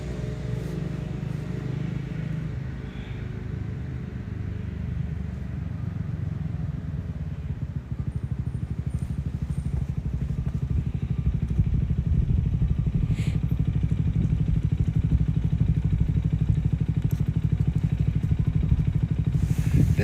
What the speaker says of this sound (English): Listen to the purring of the motorcycle next to us.